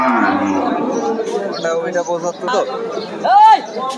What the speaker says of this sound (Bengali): সাইজের একটা গাভী নিয়ে ভাইয়েরা দৌড়াইতে আসছে